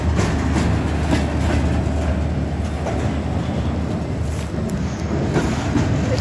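A loud, steady rumble of a CSX freight train rolling past nearby in Jacksonville, Florida, with faint rhythmic clatter of wheels over rail joints throughout.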